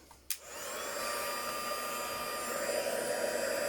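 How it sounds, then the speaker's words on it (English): Heat gun warming embossing powder on a handmade shaker card, a click and then a steady blowing whir that holds evenly, close and moderately loud, with no talking. "Right, I just now need to find my heat tool. Right, I've got my heat gun."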